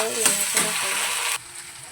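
Onion frying with ginger-garlic paste in a pan, loud close sizzling with scraping stirring strokes, then the sizzle drops sharply lower near the end.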